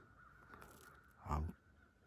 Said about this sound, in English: Crows are sounding off everywhere.